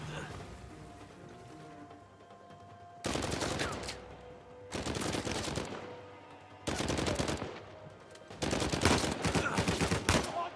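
Video game gunfire in Uncharted 4 arrives in four sharp, loud automatic bursts separated by short quiet gaps, each a dense rattle of rapid shots, with the final burst the longest and heaviest.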